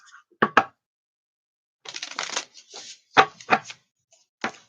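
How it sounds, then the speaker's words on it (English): Tarot cards shuffled by hand, quick crisp riffling bursts in short separated groups, close and clear against near silence. "And I'll just shuffle these up and then pull the cards wherever I feel them."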